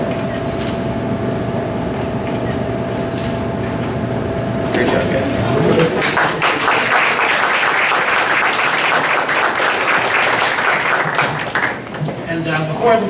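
At a board of education meeting, a humming, tonal background gives way midway to loud, sustained audience applause, a thick spread of clapping that continues to the end.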